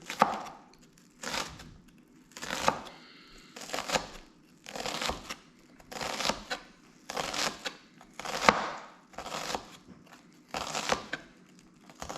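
A knife finely chops onion on a cutting board for a korma, making close, loud bursts of rapid chopping that come about once a second in an even rhythm.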